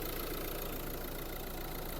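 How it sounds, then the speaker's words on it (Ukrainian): A 2018 Renault Grand Scenic Intens Hybrid Assist engine runs at idle, a steady close mechanical hum with a faint rhythmic knock, even in loudness throughout and without speech. "Двигун працює дуже гарно."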